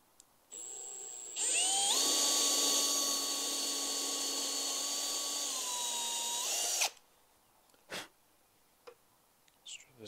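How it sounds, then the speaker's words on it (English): A power drill bores into a wooden step stool built for a Pierce Arrow Travelodge trailer. It gives a loud, steady, high whine for about six seconds, then stops abruptly, leaving a few light knocks in a quiet room. "Let's drill this one."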